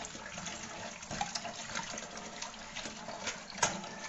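Gandhal (Gandhho Bhaduri) leaves are swished and rinsed in water to clean off dust before being made into pakoras. Soft, continuous splashing and trickling is heard nearby, with no talking.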